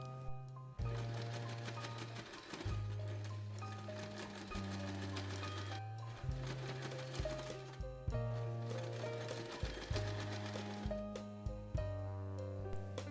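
A sewing machine stitches along the side seam of fabric for a small keychain charm, running in steady bursts of fast rhythmic whirring with short pauses between runs, close and clear with no talk.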